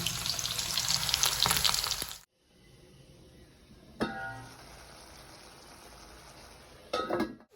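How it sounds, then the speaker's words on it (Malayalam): Chicken pieces frying in a pan give a loud, dense sizzle for about two seconds, then drop to a quiet bubbling with brief louder bursts of crackle. "ചിക്കൻ പൊരിച്ചോണ്ടിരിക്കുകയാണ്"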